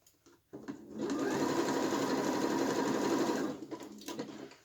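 Domestic sewing machine running steadily along a t-shirt seam for about three seconds, a close, even whirring hum with quiet handling sounds before and after.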